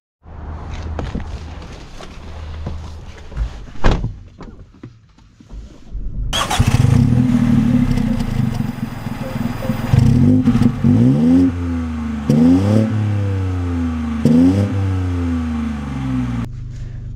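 A 2024 Mini Cooper with a 1.5-litre turbo three-cylinder and manual gearbox: faint movement noises first, then the engine fires and revs up and down repeatedly, loud and close, with no talking.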